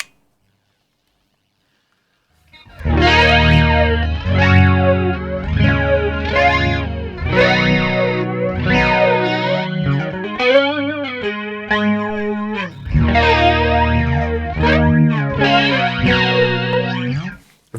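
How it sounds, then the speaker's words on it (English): Electric guitar chords strummed in a steady pattern through a Line 6 Pocket POD Express, drenched in a strong sweeping flanger effect that gives a whooshing, jet-like swirl to each note. "very strong flanger effect"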